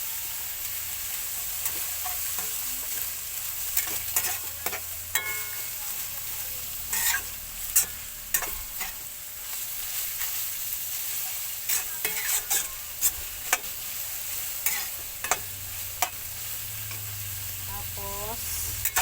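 Bopis with tofu fries in oil in a pan, sizzling steadily while a utensil stirs and scrapes the pan in repeated sharp knocks.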